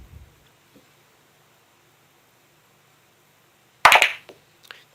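A sharp ball-on-ball strike from a game of 8 Ball Pool, the cue ball hitting the blue ball: one loud crack near the end, followed by a couple of faint smaller clicks, against otherwise quiet background.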